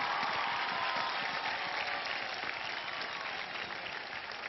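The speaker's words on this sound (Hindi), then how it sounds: "जोरदार तालियां इनके लिए हो जाएं." Studio audience at a televised Indian talent show final applauds the performers with sustained, dense clapping that fades slightly toward the end.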